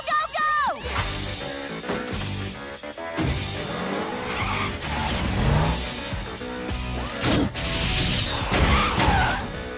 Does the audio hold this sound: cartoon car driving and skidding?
yes